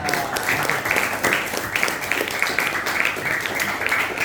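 A crowd applauding a teacher at a community gotong royong session, with dense continuous clapping from many hands throughout, moderately loud and close.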